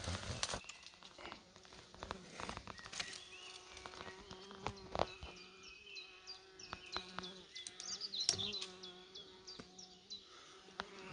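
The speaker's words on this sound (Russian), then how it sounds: "Вроде бы и не 5 пчел. А так летают и сторожат, но уже поздно." Bees buzzing around a barrel hive set on a small bush in a meadow clearing, several insects circling close and passing by, with a steady hum and sharp fly-bys and no speech.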